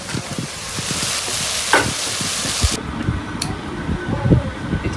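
Tilapia fish cooking in a pan with a continuous loud sizzle and repeated stirring clatter, a fan-like hum running underneath throughout, the frying hiss dropping away partway while the stirring knocks continue.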